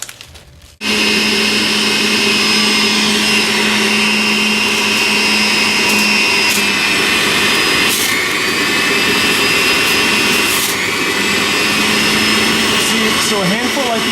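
A Breville juicer grinding spinach starts abruptly and runs as a loud, steady high-pitched whir with a motor hum, continuing unbroken for many seconds with slight pitch wobbles near the end.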